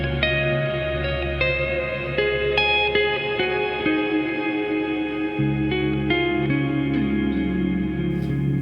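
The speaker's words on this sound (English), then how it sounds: "expansive, wide delay sound" An electric guitar through a Line 6 Helix plays sustained notes that bloom into a wide, shimmering wash of repeating delayed echoes, layered and ringing on without a break.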